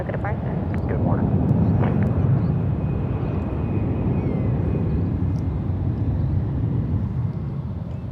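An airliner departs San Francisco International Airport with a low, rumbling jet roar that swells early and lingers, heard under air traffic control radio chatter.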